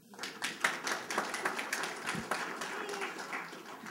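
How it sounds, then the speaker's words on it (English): Audience applause for developer Jack at a lightning talk session, a crowd clapping steadily throughout, moderately distant with a dense patter of hands. "please give him a clap"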